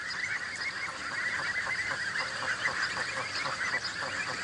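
A flock of French geese honking steadily and loudly, overlapping calls repeating in a busy, continuous chorus.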